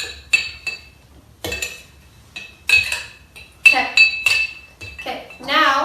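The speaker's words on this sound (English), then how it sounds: "Then you're going to use a spoon, and you're going to stir it up a little bit." A spoon clinks against a glass jar while stirring a liquid mixture, producing several bright, close taps in irregular bursts.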